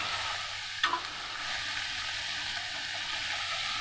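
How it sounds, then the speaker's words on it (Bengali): Mixed vegetables with spices fry and get stirred in a pan, a steady sizzle running throughout with a sharp scrape of the spatula near the start and no talk. "একটু নাড়াচাড়া করে ভাজা ভাজা করে নেব।"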